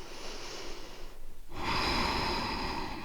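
A person in a slow yoga flow drawing a deep breath through the nose, a brief airy exhale giving way to a long, full inhale close to the microphone.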